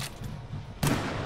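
Gunshots in the Hot Dogs, Horseshoes & Hand Grenades VR game ring out as a couple of sharp, close reports, the louder one cracking near the end over a low background hum.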